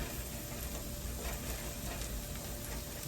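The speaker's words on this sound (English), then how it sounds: "We're going to take our cabbage that we diced up, and we're just going to load it in here." Diced cabbage in a pan of hot bacon fat with onions, a steady, dense sizzle that holds at an even level throughout, fairly quiet and without talk.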